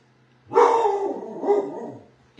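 A dog indoors gives one loud, drawn-out bark-whine that fades over about two seconds, with another bark starting right at the end.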